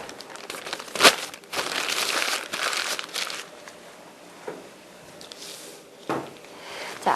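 Plastic film crinkling and rustling as laminated Danish pastry dough with margarine is handled for baking, with bursts of crackly crumpling separated by quieter handling noise, close and fairly loud, no talk.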